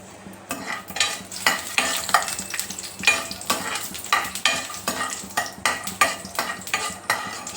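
Cashews frying in a spoonful of oil in a kadai, stirred briskly: quick, rhythmic metal-on-metal scraping strokes repeat over a light sizzle, close and fairly loud, with no speech.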